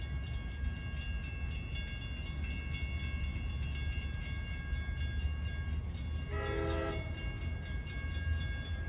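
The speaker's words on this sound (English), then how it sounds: "Next up at 5:14 is train 2778 en route from Hunters Point Avenue," A Long Island Rail Road train rolls through the New Hyde Park Road crossing during the evening rush hour, its rumble steady throughout while a crossing bell rings and a strong horn blast sounds near the end.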